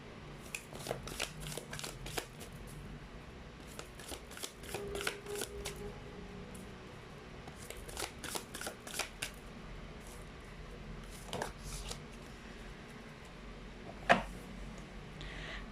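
Whispers of Love oracle cards being shuffled by hand, a steady run of close, papery riffles and soft slaps with brief pauses and one sharper snap near the end.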